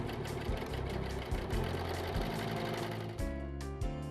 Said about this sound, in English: Set your machine up for a balanced 4-thread stitch and soft gather the other edge